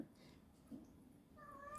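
A domestic cat meows faintly in the background near the end, a short rising call after quiet room tone.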